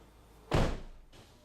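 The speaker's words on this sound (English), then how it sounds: "then we'll open and close the door a couple times" A Toyota Highlander door swings and shuts with one loud, solid slam, followed by a fainter thump about half a second later; no voices.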